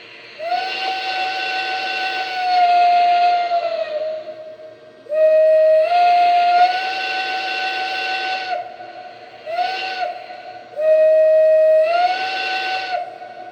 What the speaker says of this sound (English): how about that Banshee whistle?